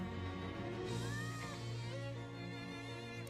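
A cat in the video game Shadows over Loathing gives a couple of short, faint meows amid a quiet game soundtrack, with no talking over it.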